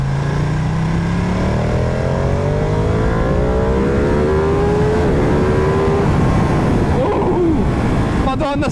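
A V2 motorcycle engine in sport mode revs up loudly and climbs through the gears, its pitch rising steadily with a brief drop at each shift.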